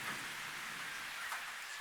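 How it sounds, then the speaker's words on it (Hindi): Heavy monsoon rain in the Konkan region during a thunderstorm, a dense steady hiss of downpour with no gaps, fairly quiet and continuous, with no voices. "कोकण का बारिश डेंजर है।"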